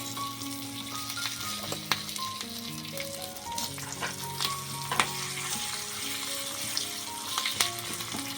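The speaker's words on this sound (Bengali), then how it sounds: "কারি পাতাটা একটু ভাজা ভাজা করি আজকে।" Curry leaves fry in a small tadka pan just after the gas is switched off, giving a steady close sizzle dotted with sharp pops and crackles throughout.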